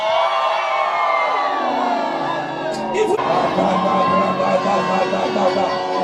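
Church congregation in a fiery service shouting, whooping and cheering together, a loud sustained crowd roar that swells midway.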